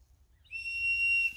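A single sharp, high-pitched whistle blast signals the start of a mock Landsknecht-style group combat bout, sounding clear and held for nearly a second over faint background.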